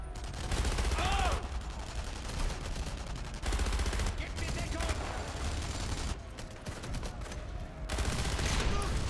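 Gunfire rings out in the World War II shooter Enemy Front, a dense sustained barrage of rapid shots in bursts across the whole stretch, loud and continuous with brief pauses, while someone talks over it.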